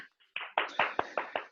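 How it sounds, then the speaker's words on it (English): A handful of people clap in a slow, even rhythm, six or so distinct nearby claps for a runner named Mo at a small running-group season finale, with no talk over them. "huge round of applause to Mo"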